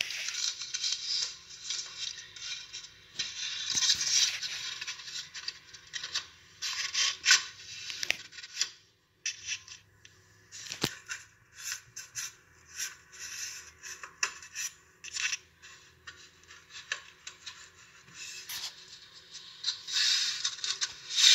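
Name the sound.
cutting a piece of cardboard for a car bumper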